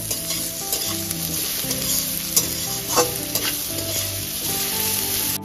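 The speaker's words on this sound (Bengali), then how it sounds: "গাজরটা ভাজার সময় 1/4 টিস্পুন লবণ এখানে আমি ব্যবহার করলাম, যাতে খুব তাড়াতাড়ি গাজরটা নরম হয়ে যায়" Carrots with a pinch of salt fry in a pan, giving a constant close sizzle broken by scraping stirs and occasional clanks of a utensil, with no talking.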